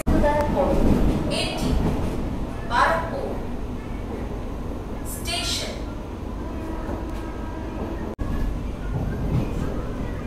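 A Sealdah-Krishnagar AC local train running at speed, a loud continuous rumble of wheels on track with periodic rattles and rushing bursts, heard from inside the carriage, with a voice speaking over it.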